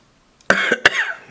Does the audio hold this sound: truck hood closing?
no